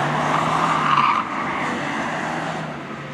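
Rally car at a JAF Cup event at New Chitose setting off on its run, a steady, loud engine drone with a brief rise before easing into a sustained roar.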